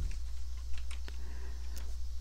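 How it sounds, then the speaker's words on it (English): A username and password being typed on a computer keyboard: a run of quick, light key clicks at close range. A steady low hum sits underneath. "Then you'll type in your username and your password"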